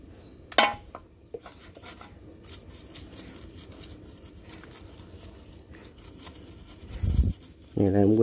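Old two-stroke Robin engine parts are scrubbed and washed, giving busy scraping and clinking of metal pieces with short knocks and rattles throughout, ending in louder clatter and a brief voice.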